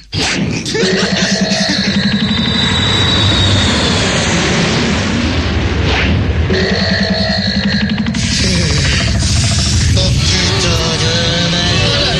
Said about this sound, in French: fait chauffer l'avion en direction la Russie